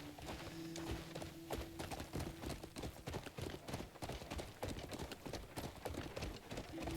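Horse hooves clip-clop steadily in the video game Crimson Desert, a dense, continuous run of hoofbeats at moderate loudness with faint game ambience beneath.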